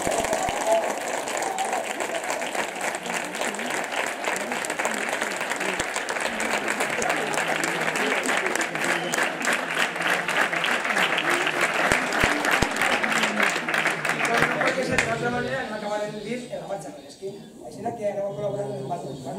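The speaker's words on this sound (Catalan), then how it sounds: "per ell també un aplaudiment" Audience applause at the Estivella Christmas concert, 2017, a long dense wash of clapping from a crowd that holds steady and then tapers off near the end as a voice and other sounds come through.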